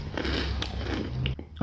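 Crunchy biting into peanut butter flavored cereal with milk, a close, dense crunch lasting over a second followed by a brief pause and a final crackle, no talking.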